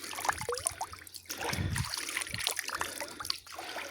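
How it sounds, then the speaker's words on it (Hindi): Water runs from an outdoor tap, a continuous splashing trickle with small gurgles and bursts, moderately close and fairly quiet, with no talk over it. "ये एक नलका लगा हुआ है, इस नलके साहब में ये पानी देखें"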